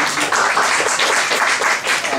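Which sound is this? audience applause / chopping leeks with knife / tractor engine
audience applause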